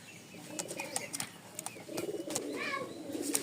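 A giribaj tumbler pigeon coos in soft, repeated throaty bursts close by, with a few sharper chirps from other birds in a quiet loft.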